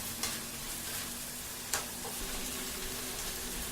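Chicken biryani base with homemade garlic ginger paste frying in a pot, a dense continuous sizzle close up, with two sharp spoon scrapes as it is stirred, no voices.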